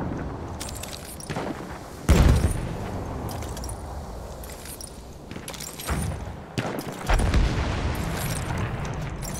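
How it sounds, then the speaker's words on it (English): Heavy tank cannon fire and explosions in the Battlefield 1 video game, with deep booming blasts landing every few seconds over a constant rumble of battle noise, loud and close with no speech. "I'm shooting a heavy tank."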